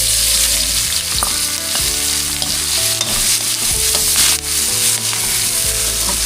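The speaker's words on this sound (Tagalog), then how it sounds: "Isa na po natin yung ating bawang tsaka sibuyas" Garlic and onion fry in oil in a pan, a loud, close, steady sizzle with occasional stirring knocks and scrapes, no voices.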